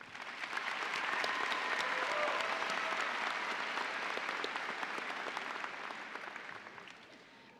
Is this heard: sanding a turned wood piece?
no